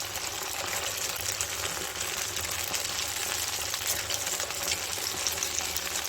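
Small poha snack balls fry in hot oil over a medium flame, a continuous dense crackling sizzle holding steady and close throughout with no talk.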